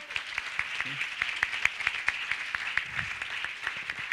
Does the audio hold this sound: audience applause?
yes